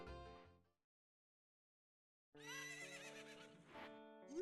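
A horse in The Legend of Zelda: Ocarina of Time gives a loud, clear whinny, then falls silent for nearly two seconds before a second long neigh and the start of a third.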